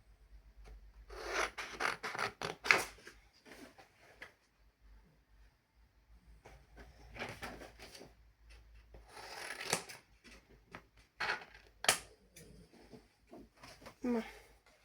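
Paper being cut with scissors during an advent calendar unboxing, heard as several bursts of dry snipping and rubbing, close and fairly quiet, separated by short pauses.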